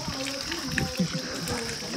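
Cold water running from a tap while hands are washed outdoors in chilly weather, a soft steady splash and gush low in the mix, with occasional knocks and faint voices around it.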